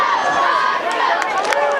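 A home crowd cheers at a high school football game between the Howe Bulldogs and the Tom Bean Tomcats, a steady roar of many voices with some livelier shouts.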